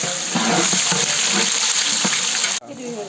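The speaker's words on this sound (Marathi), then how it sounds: "आपण जे कापून घेतलं होतं ते टाकून मस्त परतून घ्यायचे" Chopped vegetables sauté in a hot pan for veg pulao, a loud, dense, close sizzle with light stirring taps that cuts off abruptly near the end, leaving a softer crackle.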